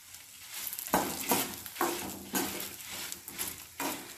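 Green and dried chillies fry in a pan for karivepaku podi, a soft sizzle broken by several stirring scrapes and light clinks of a spoon against the pan, close and fairly quiet.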